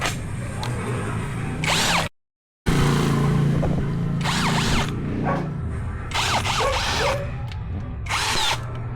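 A Tanzu 13mm cordless drill with a heavy battery revs in loud bursts, whining up and cutting off several times with a brief silent gap, close and alone.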